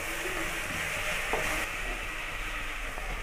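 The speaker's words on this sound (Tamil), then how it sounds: "நல்லா வதக்கிக்குங்க." Onions with ginger garlic paste and mint sautéing in a pan for coconut milk rice, a soft steady sizzle with a single brief stirring scrape near the middle, quiet and close, no talking.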